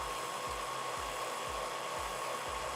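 A power drill driver on its torque limiter runs with a steady whine while the clutch ratchets in regular clicks, about two per second, close and alone.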